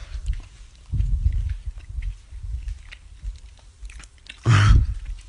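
Close, crunchy chewing of blue and orange candies, with irregular wet mouth clicks and bites coming in uneven bursts and one loud, harsh crunch near the end; no talking.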